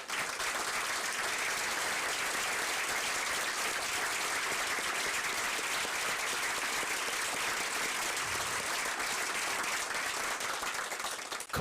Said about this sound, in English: while we can give you a hand